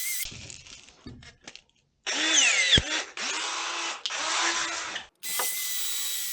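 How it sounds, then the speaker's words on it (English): Power drill boring through sheet metal on a model lighthouse, several short whining bursts of drilling with brief pauses between, close and loud, preceded by quieter workshop handling sounds. "and then I'm gonna drill"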